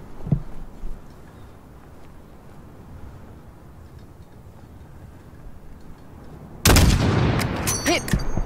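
A single sharp sniper rifle shot at about 600 meters range in Modern Warfare (2019), a loud close crack with a rolling echo tail after a long quiet stretch of low ambient rumble.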